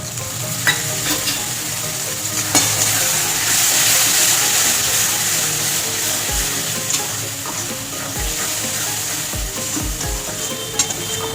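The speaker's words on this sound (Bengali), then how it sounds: "ভালো করে কষিয়ে নেবো মশলাটা।" Spice paste of turmeric, chili powder, cumin and coriander with salt and a splash of water frying steadily in a pan, a continuous close sizzle with occasional stirring scrapes and clicks throughout, no talking.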